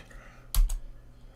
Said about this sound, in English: now I can add a line by typing A.